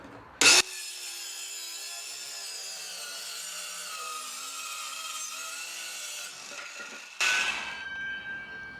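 A power saw whines steadily as it cuts through 18mm hardwood plywood, a sustained loud buzzing tone lasting several seconds, bracketed by sharp bursts as the tool starts and finishes.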